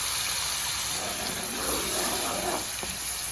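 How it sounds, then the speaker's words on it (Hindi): Water poured into a pan of spices while cooking moong dal makhani, a steady close hiss and trickle of liquid filling the pan with no talk. "अब थोड़ा सा पानी डालूँगी ताकि वो मसाले जले नहीं या उसके साथ चिपके नहीं।"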